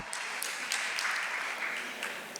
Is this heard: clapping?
yes